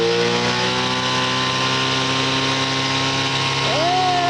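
Outboard motor on a 1973 Silverline tri-hull boat revving steadily and loudly up close, a continuous droning engine tone with a brief pitch sweep near the end and no talk.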